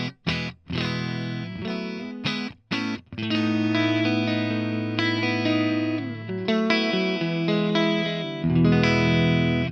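An electric guitar plays through a Marshall 1959 Modified Plexi amp at low volume with heavy distortion and a chorus-like shimmer. Sustained chords are separated by a few short gaps near the start, then ring out continuously.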